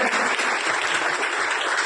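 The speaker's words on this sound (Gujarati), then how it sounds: "ખૂબ જ તાળીઓ તેમને લગાવી મહેશભાઈ ચાવડાને।" Steady applause from a gathering honouring a police ASI retiring after 38 years of service, a dense, continuous patter of many hands at close range with no pauses.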